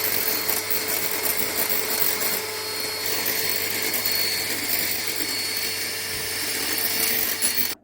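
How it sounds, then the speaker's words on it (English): Electric hand mixer running steadily to whip egg whites, a loud continuous whirring motor drone with a bright buzzing whine that holds for several seconds before cutting off abruptly. "what I have to do now is to mix to produce a kind of egg white, what I will do now with this mixer"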